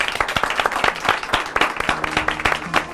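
A studio audience on a live program gives a round of applause, dense, close clapping from many hands with sharp individual claps in an uneven, lively rhythm, and no talking over it.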